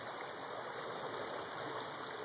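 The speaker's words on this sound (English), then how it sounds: "It's really a nice deep river." The American River, running high and deep after rising, makes a steady broadband rush of flowing water, constant and even in level throughout, moderately loud with no voices over it.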